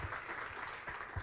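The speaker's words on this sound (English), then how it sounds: "let's give them a round of applause too" A crowd at an elementary school media center ribbon cutting applauds the firefighters present, a short, moderately faint patch of clapping with a few low bumps.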